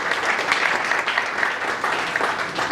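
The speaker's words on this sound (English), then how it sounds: "Round of applause to each one of you in the room." A room full of people clapping, a steady, dense wash of applause that stays loud throughout without any talking.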